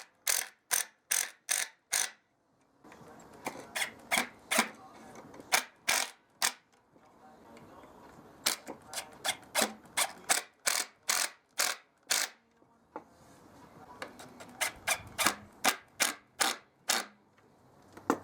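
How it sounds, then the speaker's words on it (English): Screws driven with a power driver through cleats into an upturned salvaged oak coffee tabletop, in several bursts of rapid ratcheting clicks separated by short pauses and low whirring, close by and with no talking. "With the tabletop upside down, I could then screw through the cleats into the top."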